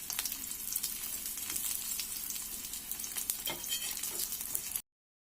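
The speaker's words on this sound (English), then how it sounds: "I'm going to add my brinjal pieces on medium flame." Brinjal pieces fry in mustard oil over a medium flame, giving a steady, close crackling sizzle with occasional stirring sounds, before the sound cuts off abruptly.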